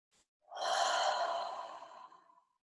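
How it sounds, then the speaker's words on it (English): One slow, deep breath drawn in and let out, a soft breathy rush building over about two seconds and fading, close and alone in quiet. "Breathing in"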